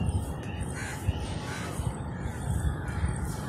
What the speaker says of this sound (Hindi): पक्षी अपने भोजन की तलाश में इधर उधर आ रहे हैं